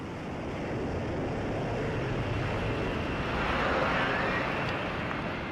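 Steady, broad jet roar from an F-35 fighter hovering on its lift fan, continuous and fairly distant, swelling slightly toward the end, with no voices.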